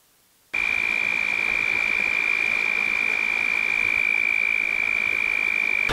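A continuous high-pitched trill starts abruptly and holds steady for several seconds, a male toad calling close by at a bass pond against faint background noise.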